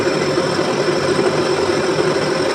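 Metal lathe turning the outside diameter of a worn bearing seat during restoration, a loud steady machine drone with a constant mid hum and cutting hiss, close and alone.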